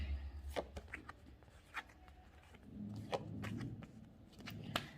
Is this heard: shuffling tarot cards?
yes